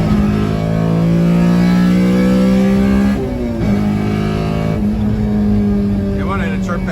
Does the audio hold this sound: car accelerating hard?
yes